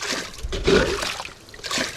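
Water trickles and sloshes into a small fishing boat, a close, irregular liquid dribbling with brief splashes.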